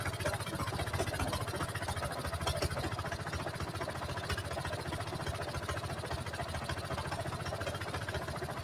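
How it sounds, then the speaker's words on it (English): An ATV engine idles with a steady low, even rumble that stays close and unchanging throughout, with no voices over it. "be a good filmer and actually turn the engine off"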